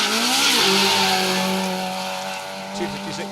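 MG ZR rally car racing along a gravel stage, its engine roaring loudly and steadily with a falling pitch as it passes, then easing into a sustained drone.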